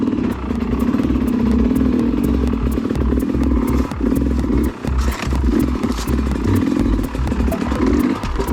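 A dirt bike with a broken kickstarter runs after a clutch start at an extreme enduro race, its engine close and loud with a steady throbbing idle and slight revving throughout, no talking.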